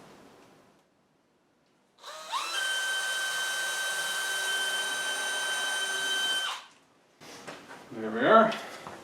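A power drill pre-drilling holes in wood during a building project, a loud steady whine lasting several seconds, then stopping, followed by quieter handling noise and a brief voice.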